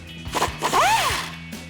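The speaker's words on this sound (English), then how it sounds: "We're going to remove these two bolts with our 15mm socket." A 15mm socket and ratchet work the top hat bolts on a 1994-2004 Mustang: a short metallic scrape and whirring spin, close and brief, over quiet shop background.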